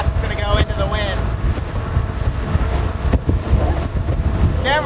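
Small boat driven by an electric outboard motor gathering speed into the wind on open water, with steady loud wind buffeting the microphone, water rush and a voice speaking briefly throughout.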